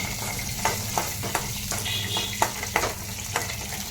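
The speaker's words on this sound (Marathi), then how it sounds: "आता त्याच्यामध्येच हे काजू भाजून घेते. थोडंसं तूप टाकायचं" Cashews roasting in a little ghee in a pan, a constant frying sizzle broken by repeated sharp scrapes and clicks of a spoon stirring them, close up and without speech.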